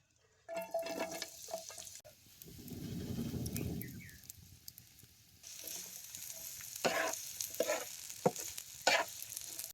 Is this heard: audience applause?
no